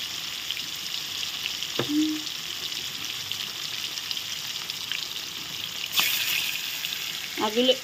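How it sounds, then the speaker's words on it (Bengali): Pieces of bhola fish sizzle steadily in a hot pan, a continuous close, even frying hiss with an occasional light utensil click. "এগুলো ভেজে নিচ্ছি। এক পাশ ভাজা হোক, আবার উল্টে দেবো।"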